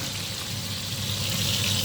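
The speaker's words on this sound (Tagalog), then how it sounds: "nagpiprito na tayo ng isda" Continuous hissing sizzle of fish frying in hot oil, steady and close, growing slightly louder toward the end, with no talking.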